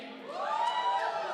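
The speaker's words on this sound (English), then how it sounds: "let's give another big round of applause to our performers" Crowd cheering and whooping for performers at a wedding sangeet celebration, a brief loud swell of voices and shouts with no distinct clapping.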